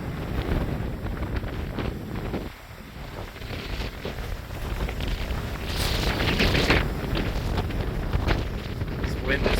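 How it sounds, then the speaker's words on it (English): Strong thunderstorm winds buffet the microphone outdoors during a severe weather outbreak, a loud continuous roaring rush with gusts swelling and easing, briefly dropping then building stronger. "This wind is still ripping."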